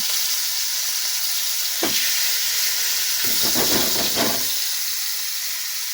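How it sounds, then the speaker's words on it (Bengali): Koi fish hit hot oil with a sudden loud hiss that swells into a dense crackling sizzle, rising sharply partway through and then settling back into a steady background hiss, close and with no talking. "তেল গরম হয়ে গেছে আমি মাছগুলো সব দিয়ে দিচ্ছি"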